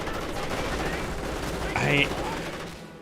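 Sustained battle din of gunfire in the strategy game Company of Heroes, a dense continuous rattle with a brief brighter tonal burst near the end, steady and loud before fading slightly.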